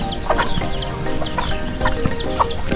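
Chickens and a chick clucking and chirping close by in a rural yard, with repeated high cheeps over a steady bed of low clucks, loud and continuous with no talk.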